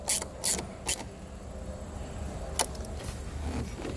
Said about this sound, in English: Just pull that off and slide our ring terminal on and tighten that nut back down.